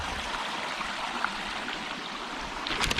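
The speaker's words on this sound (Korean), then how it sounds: "사계절 물이 마르지 않은 일급수의 계곡이 흐르고 있습니다." A clear, year-round mountain valley stream in Gapyeong flows with a steady, even rushing and trickling of water, close and continuous, with no voices.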